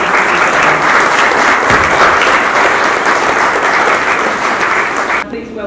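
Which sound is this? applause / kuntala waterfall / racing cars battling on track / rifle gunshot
applause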